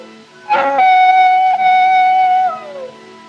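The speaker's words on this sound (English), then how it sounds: "Coyotes give me the creeps." A single long, wavering high-pitched coyote howl rises, holds steady for about two seconds, then slides down and fades, loud and clear against quiet.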